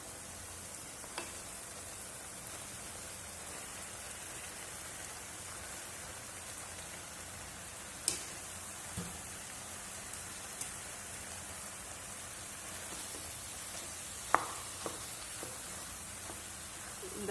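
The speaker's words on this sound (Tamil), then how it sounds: "இப்போ நம்ம வடிகட்டி வச்சிருக்கிற இந்த பாஸ்தாவை இதில் போட்டு நம்ம கிளறி எடுப்போம்." Drained pasta is stirred into a tomato masala in a pan: a faint, soft, steady sizzle broken by a few sparse spoon clinks.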